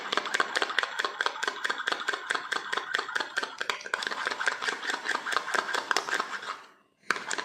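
An electric mixer blending a homemade beetroot moisturizer, a loud steady chopping whir with rapid regular pulses, pausing briefly near the end before starting again.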